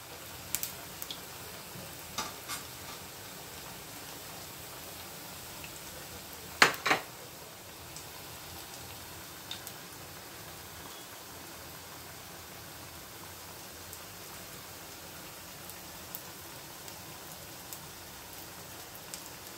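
Potato and cornflour fritters frying in hot oil, a steady soft crackling hiss like rain with a few sharper pops, close and continuous without talk.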